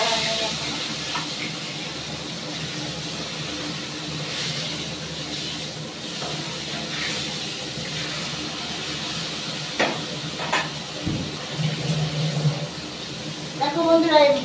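Snakehead fish heads frying in hot oil in a wok, giving a steady close sizzle and hiss with brief spattering bursts, under talk.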